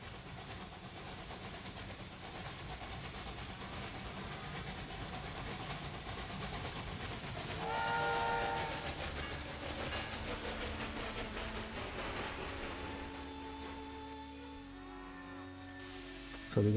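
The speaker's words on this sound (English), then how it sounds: "And there we go. We've got the train coming in." Train arriving in the railway management game Railway Empire 2, a steady rumbling rolling noise with clickety-clack and hissing steam, a brief louder swell midway, and tonal whistle-like notes near the end, no talking.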